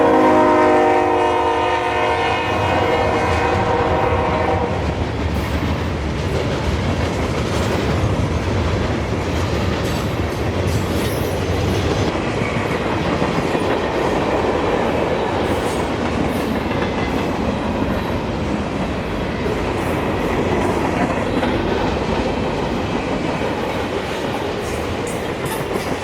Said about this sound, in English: here came a northbound CSX manifest freight on the A-line